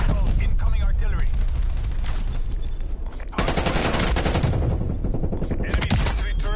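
Incoming artillery and heavy gunfire rage through a Cold War shooter battle, with loud, dense bursts of rapid shots and a sudden heavy blast midway, while voices cut in near the start.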